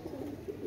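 Pigeons of the Pakistani White Commando and Prince breeds give soft, low cooing, close by, with gentle repeated coos over a quiet background.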